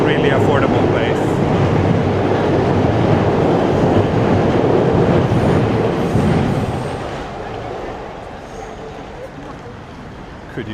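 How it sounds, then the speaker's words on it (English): A train rumbles loudly past close by near a tunnel in Shinjuku, Tokyo, a steady roar with rattling that holds for several seconds and then fades away. "There was like a train passing and it was super loud."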